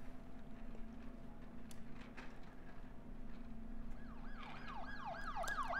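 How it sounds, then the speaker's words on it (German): Ambulance sirens wail in the hospital management game Project Hospital, their wavering tones rising in from a distance over a low ambient hum and growing clearer and overlapping toward the end. "Die Krankenwagen drehen da unten auch gut durch."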